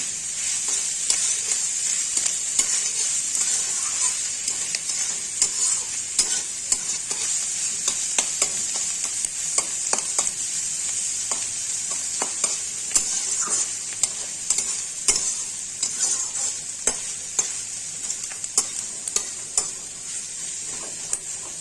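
Onions with a little salt frying in a pan for a jackfruit and fish-head curry, a constant bright sizzle broken by frequent clicks and scrapes of a spoon stirring against the metal, steady and close throughout.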